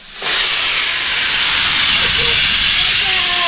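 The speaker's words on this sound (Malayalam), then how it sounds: "അല്ല കുക്കറിൻ്റെ സൗണ്ട് പേടിയാണ് ആക്ച്വലി." A home kitchen pressure cooker whistle bursts into a loud, continuous hissing jet of steam that starts abruptly and holds steady, close by, with faint voices underneath.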